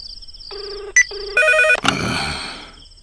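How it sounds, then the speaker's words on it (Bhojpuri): A telephone rings loud and close in a few electronic bursts, with a clatter of noise trailing off after the last ring. "रिंग जाता।"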